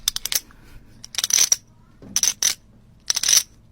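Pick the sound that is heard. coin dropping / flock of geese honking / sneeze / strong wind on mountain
coin dropping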